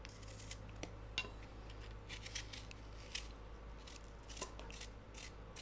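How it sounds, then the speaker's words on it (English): An apple being diced into small pieces over a bowl, with soft, scattered knife clicks and taps against a faint steady hum, close but quiet. "we're going to dice it up right into our bowl. And just little bite-sized pieces."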